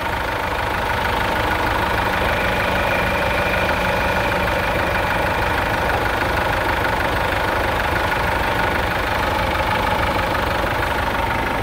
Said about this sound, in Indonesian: Kita biarkan mesinnya nyala.